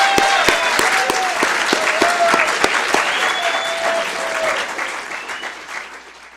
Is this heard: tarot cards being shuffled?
no